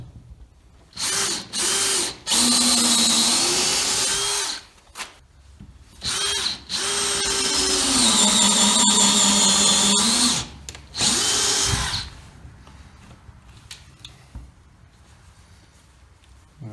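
A power drill bores into wood for a barn door latch, loud whirring bursts that start and stop several times, with longer sustained runs and pitch dips as the bit loads up.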